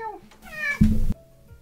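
A cat meows close by. A drawn-out call rises and then falls, a short sharper cry follows, and a softer murmur comes at the end.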